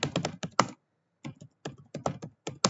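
Typing on a computer keyboard: a few quick clusters of crisp key clicks, a short pause, then more bursts of keystrokes, close and clear with no talking.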